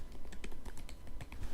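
Quick, close typing on a computer keyboard, a rapid run of light plastic key taps with no voices.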